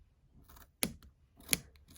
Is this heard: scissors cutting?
yes